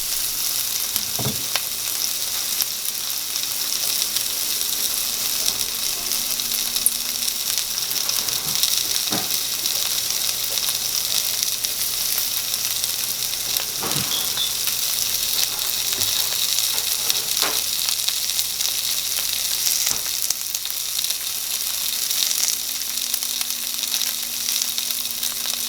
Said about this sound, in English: I'm just looking for a little bit of sweat, the onions to get a little bit more transparent